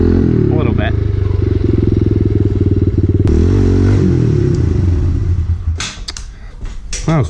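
A 2018 KX125 two-stroke dirt bike at motocross practice, its engine loud and close with rapid revving and shifting pitch, then easing off as clattering scrapes and rattles take over near the end.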